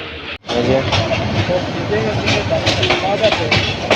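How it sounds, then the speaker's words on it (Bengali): A train pulls out of Airport railway station in Dhaka, a continuous rumbling roll with rhythmic clatter and hiss, close and loud, with a voice talking over it. "আরও একটি ট্রেন এয়ারপোর্ট রেল স্টেশন থেকে বেরিয়ে যাচ্ছে"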